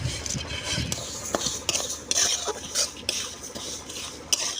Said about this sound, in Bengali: শুকনো খোলায় মুগ ডালটা আমি ভেজে নেব